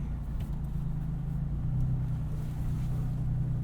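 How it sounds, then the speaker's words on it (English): Low rumbling engine drone of a 2022 Toyota 4Runner TRD Pro using off-road crawl control, with steady humming tones and faint intermittent clicks and grinding, continuous and close throughout. "This is just what crawl control sounds like. It makes lots of noises."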